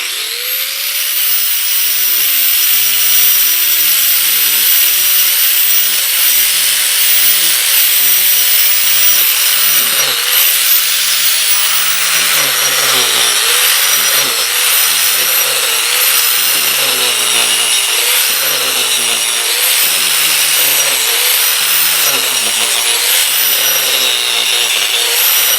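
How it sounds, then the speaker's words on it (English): Power sander grinding against wood, a loud continuous abrasive roar whose motor pitch wavers and dips as pressure changes, close up and alone with no talking. "it can be kind of weird just using a sander sometimes, but it works"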